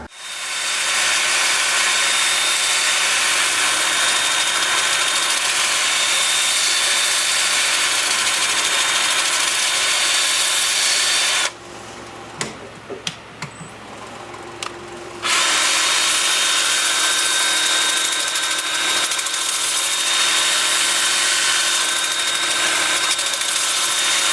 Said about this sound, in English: Okay, time for sanding.